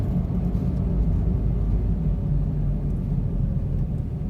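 A 2005 Smart ForFour with a worn front wheel bearing, driving at around 30 mph, gives a continuous low droning rumble over road noise, steady and fairly loud with no talking.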